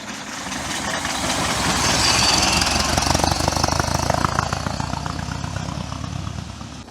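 A 1903 Napier veteran car engine runs with a fast rough knocking chug, swelling louder then easing slightly, close by and steady, with no talk over it.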